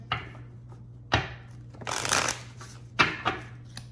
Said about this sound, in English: we're going to give it a little bit of a shuffle here